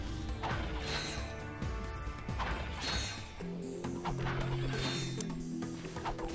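Bolts being collected in the Ratchet & Clank video game amid a dense, continuous wash of mechanical clanking, metallic crashes and ratcheting game effects, with steady tonal music underneath.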